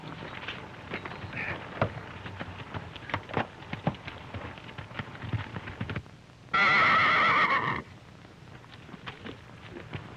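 Hooves clip-clop steadily under a faint wash of rain, then a horse gives one loud, sustained whinny before the hoofbeats resume.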